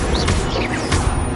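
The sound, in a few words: Stupefy spell cast in the video game Hogwarts Legacy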